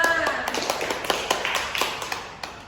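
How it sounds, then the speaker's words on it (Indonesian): A small class claps together in a classroom teaching session, a loose patter of scattered hand claps rather than a full roar, fairly close and fading toward the end, with a voice faintly underneath. "Tepuk tangan dulu untuk kita semua."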